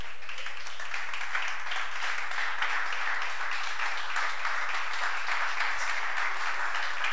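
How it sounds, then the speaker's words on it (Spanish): A church congregation applauds steadily for several seconds, a dense and even wash of many hands clapping in a large room. "Dale un aplauso al Señor"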